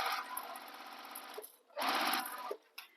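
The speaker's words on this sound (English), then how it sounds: "And then I'm going to continue sewing" A sewing machine stitching tote bag fabric runs in two steady whirring bursts, the motor humming evenly, stopping briefly between runs with faint mechanical clicks, close and alone without talk.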